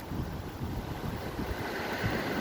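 Steady, blustery wind buffets the microphone at the shore, a constant low rumble with soft surf-like wash underneath and no voices.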